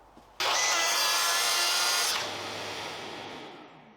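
A Festool TSV 60 track saw cuts through black-coated plywood: the blade's loud, steady whine bursts in abruptly, runs evenly through the cut, then drops to a lower, softer spin-down.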